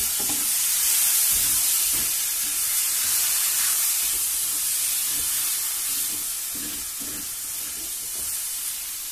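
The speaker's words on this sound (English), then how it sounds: "cook till the tomatoes become soft" Tomatoes and salt cooking down in a pan for methi paneer bhurji, an even hissing sizzle with soft intermittent stirring knocks, heard alone.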